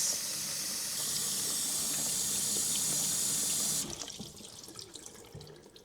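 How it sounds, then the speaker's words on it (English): Filtered water pours steadily from a tap over elderberries in a strainer set in a bowl, a loud close hiss that suddenly drops to softer trickling and dripping as the flow stops. "My final rinse will be with my filtered water. I fill up a strainer in another bowl. I'm giving them a good rinse."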